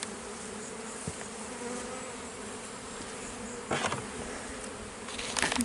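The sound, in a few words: honey bees buzzing around hive frames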